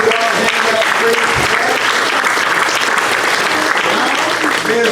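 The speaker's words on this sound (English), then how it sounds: "Give God a hand clap of praise" A church congregation clapping hands in praise, loud, dense and close, one continuous burst of applause with some crowd voices mixed in.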